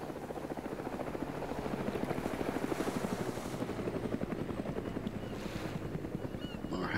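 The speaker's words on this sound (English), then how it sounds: "Helicopters." Helicopter flying overhead in a military shooter video game, a steady, close rotor chop with a rapid pulsing beat that holds strongly for the whole stretch, with no voices over it.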